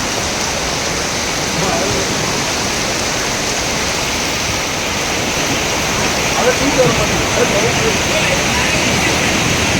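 Floodwater rushes down a street near the temple at Courtallam in the early morning, a loud, continuous broadband roar like a torrent, with people talking faintly beneath it.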